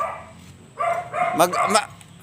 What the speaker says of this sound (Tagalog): Matapang yung aso mo?